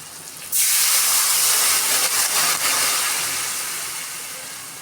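Water hits a hot pan of fried potatoes for an egg and brinjal dish, setting off a sudden loud hiss of steam that holds steady and then slowly fades.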